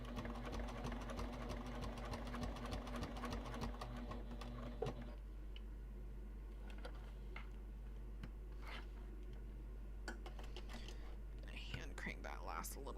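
A sewing machine stitching car trash cans inside a converted bus on the road: a steady, rapid mechanical whir with dense ticking stitches for about five seconds, then slower scattered clicks and hand-cranked stitches, with quiet whispered talk.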